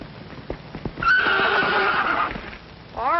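A few hoof clops lead into a loud, close horse whinny lasting over a second, then another shorter neigh begins at the end.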